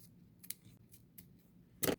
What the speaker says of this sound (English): All I'm going to do now is I'm going to cut the ends